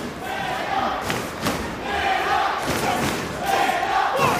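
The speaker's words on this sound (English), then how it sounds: "the crowd chanting, man up, man up" A live wrestling crowd at a Ring of Honor match, Austin Aries vs. Colt Cabana in 2009, chants in a rhythmic, repeating pattern, loud and echoing through the arena with thumping pulses.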